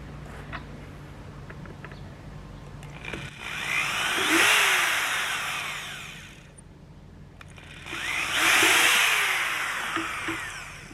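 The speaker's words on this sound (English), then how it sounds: "And I'm just going to drill 2 holes." A power drill bores two holes into a plastic automatic animal waterer container, two separate loud whirring bursts of a few seconds each, with quiet pauses in between.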